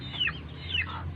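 A mother hen tied up on a farm, with her young chicks nearby, clucks in short repeated calls, two clear bursts close to the listener, with no talking.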